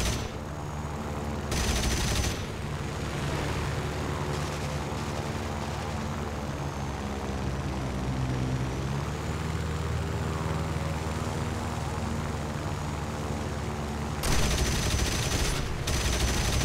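Gunfire from aircraft guns in the air-combat game War Thunder, heavy and continuous over a steady propeller-engine drone, with louder bursts near the start and end.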